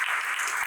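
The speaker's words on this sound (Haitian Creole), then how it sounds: "Sous vos applaudissements, s'il vous plaît." An audience applauds at the official opening ceremony of an agro-industrial company, a brief burst of dense clapping from many hands in a room, steady and moderately loud.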